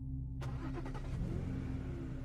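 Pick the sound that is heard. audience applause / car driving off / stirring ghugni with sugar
car driving off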